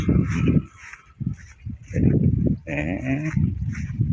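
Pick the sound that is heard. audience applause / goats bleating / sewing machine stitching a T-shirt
goats bleating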